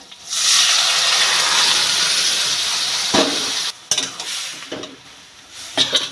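Cooked masoor dal with cauliflower stems is poured into fried onion and green chilli, bursting into a loud hissing sizzle that fades gradually, broken by a few clattering stirs.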